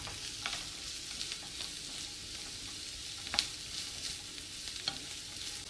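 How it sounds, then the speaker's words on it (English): Carrots and celery sauté in a pan for meatloaf, a soft continuous sizzle with occasional sharper scrapes and clicks from stirring, fairly quiet and close, with no talking. "we're gonna saute it as well, just to sweat it down a little"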